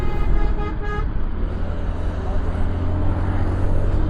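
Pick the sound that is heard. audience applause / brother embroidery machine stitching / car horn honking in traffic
car horn honking in traffic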